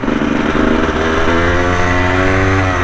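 Motorcycle ridden along Mexican streets, a loud close engine drone holding steady with slight rises in pitch, steady and continuous with no talk over it.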